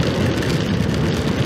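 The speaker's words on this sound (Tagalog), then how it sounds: "Medyo lumalakas po ang ulan sa part dito." Heavy rain intensifying during a typhoon overnight camping trip in Nueva Ecija, a dense, loud, steady wash of drops with no pauses and no voices.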